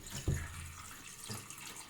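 Tap water runs over mushrooms being rinsed in a kitchen sink, a steady close flow that opens with a soft thump and continues evenly for a couple of seconds with no voices.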